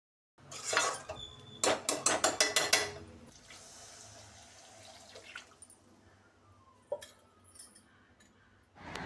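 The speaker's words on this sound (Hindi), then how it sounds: "और इसको चम्मच से आप चलाइए" A spoon stirs boiled potatoes being sautéed in a pan, giving a burst of rapid metallic clinks and scrapes early on, then quieter intermittent scraping and a few isolated knocks.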